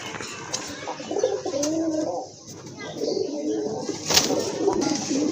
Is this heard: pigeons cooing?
yes